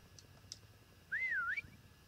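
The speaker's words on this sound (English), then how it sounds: "Oh, we have a whistle too!" A single rising-and-falling whistle sounds out once, clear and fairly loud over quiet game ambience, used as a prop hunt locator in Call of Duty WWII, preceded by a couple of faint short chirps.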